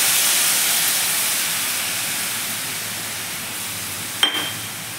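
Fresh coconut and cream frying in ghee in a pan, a steady bright hiss that slowly fades, ending with a brief sharp clink.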